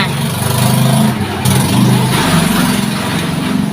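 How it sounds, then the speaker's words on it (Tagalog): A loud, noisy vehicle passes close by, its engine rumble steady and heavy across the whole stretch, with no speech over it. "Padaanin lang natin yung maingay na sasakyan parate na dumadaan."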